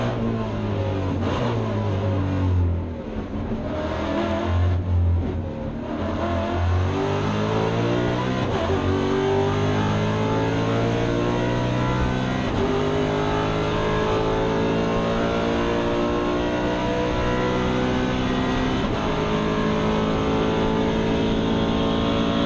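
Maserati race cars from a one-make trophy series accelerate hard on a restart at Suzuka, their engines climbing through the gears in overlapping rising tones. The pack sounds loud and steady, with occasional faint commentary underneath.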